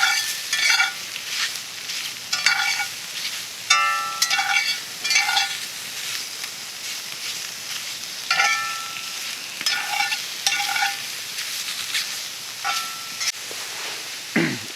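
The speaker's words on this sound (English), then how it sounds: "I'm going to use my stainless steel spatula and go ahead and just stir that around and let that brown a little bit" A stainless steel spatula scrapes and clinks against a cast iron pan over a campfire, stirring browning food in repeated strokes above a constant close sizzle.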